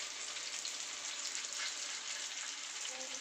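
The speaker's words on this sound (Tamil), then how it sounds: "மீனும் வறுத்துக்கிட்டே இருக்கிறேன்." Fish fries in a pan with a steady, dense hiss of sizzling oil that stays even and unbroken throughout.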